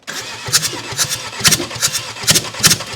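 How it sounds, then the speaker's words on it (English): A 2017 Vauxhall Combo van, bought as a non-runner, cranking on the starter: rhythmic, loud chuffing turnover bursts close by, the engine not yet catching, with no speech. "Whoa, that's chuffing there. It's going to fire up, that is."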